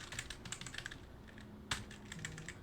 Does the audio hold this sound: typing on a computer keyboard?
yes